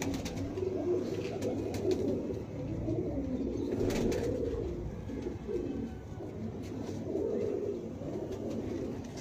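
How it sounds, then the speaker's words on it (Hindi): A Ferozpuri pigeon at a fancier's loft gives low rolling coos that swell and fade in bursts across about nine seconds. The calls are soft but close, over a light background hum and no speech. "ये फिरोजपुरी कबूतर है"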